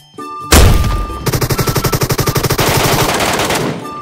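Rapid automatic gunfire in a video game shootout inside a radiation zone, a loud sustained burst of evenly spaced shots that runs for a couple of seconds and then blurs into dense continuous fire, with no talking.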